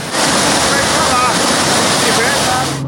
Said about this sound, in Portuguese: Funcionários da construção gravaram a água invadindo o túnel.